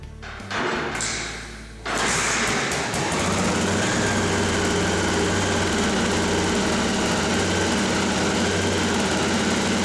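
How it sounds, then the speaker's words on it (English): A 1986 Honda XL600R single-cylinder motorcycle engine, freshly carburetor-serviced, cranks and catches around two seconds in, then settles into a loud, steady close-up idle with a low rhythmic thrum. "Old bike don't run too bad for not having been run since '93, does it?"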